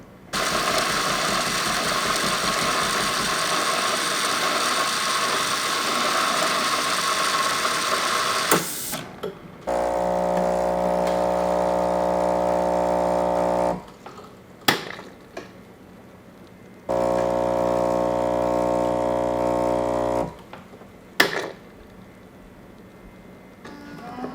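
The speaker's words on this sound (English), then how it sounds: "That means it's gonna make our cappuccino with 2 shots of espresso." A Saeco Magic M2 fully automatic espresso machine brews a double-shot cappuccino, its loud steady mechanical whir and pump drone running in long stretches broken by brief pauses and clicks between cycles.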